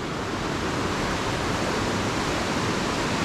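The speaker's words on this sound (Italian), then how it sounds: "Sotto di noi il fiume, come vedete." A river rushes below a footbridge in a gorge in Val Sanagra near Como, a loud, dense, unbroken roar of water with no pauses and no voices.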